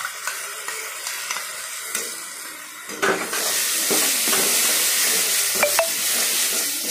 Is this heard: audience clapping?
no